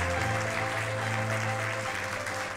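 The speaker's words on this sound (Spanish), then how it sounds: "Le quiero pedir un aplauso al ministro de Hacienda, Mario Marcel." Audience applause for Chile's finance minister Mario Marcel at a seminar in Concepción, a steady, dense clapping from a large crowd that holds at even loudness for a couple of seconds and tapers slightly at the end.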